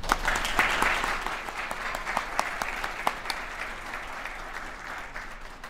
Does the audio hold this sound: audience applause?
yes